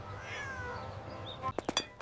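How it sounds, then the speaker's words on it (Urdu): A thirsty cat meows outdoors, a drawn-out rising and falling call followed by a few short sharp sounds near the end, heard alone without talk. "ایک پیاسی بلی باہر ہے، میں اس کو پانی پلانا چاہتا ہوں۔"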